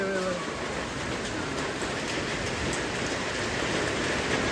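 Heavy rain pours steadily in a dense, continuous hiss, drumming on a metal sheet roof without a break.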